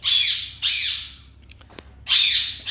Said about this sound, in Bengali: যেন পাখির আওয়াজটাও থাকে